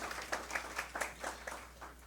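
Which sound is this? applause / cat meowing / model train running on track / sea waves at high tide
applause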